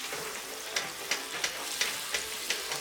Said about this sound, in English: Now let's go ahead and put the butter in.